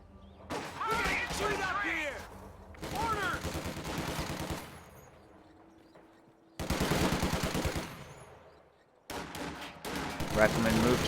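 Rifle fire from infantry riflemen in a real-time strategy game battle, bursts of crackling gunshots in several clusters, loud and close, mixed with other game effects.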